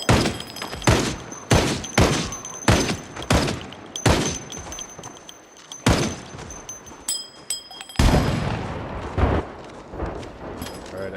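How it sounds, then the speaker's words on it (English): Grenade launcher firing in the zombie survival game Project Zomboid, a rapid series of loud, sharp booming shots spaced about a second apart, followed by a longer crackling, rumbling stretch of blasts near the end. "Grenade launcher is very effective."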